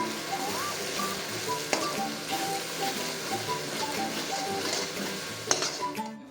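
A spoon stirs a paneer tikka masala mixture in a pan, scraping and clinking against the metal while the masala sizzles steadily underneath, with two sharper knocks along the way.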